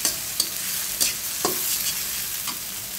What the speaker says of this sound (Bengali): এখন আমি নারকেলটা দিয়ে দিচ্ছি। এটাও সুন্দর করে ভেজে নেবো।